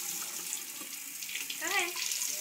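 Tap water runs steadily into a sink for rinsing during a bathroom routine, a close, hissing stream with a brief gurgle partway through and no clear talking.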